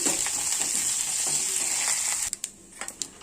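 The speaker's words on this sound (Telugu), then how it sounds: "పోపు తాలింపు అయితే పెట్టానండి" Popu talimpu tempering crackling in hot oil for drumstick-leaf dal, a dense close sizzle that drops away sharply after two seconds, leaving a few scattered clinks and scrapes of a spoon.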